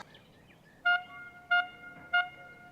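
Three short, evenly spaced horn toots mark the end of a pond fishing tournament, sounded at a distance over quiet outdoor background.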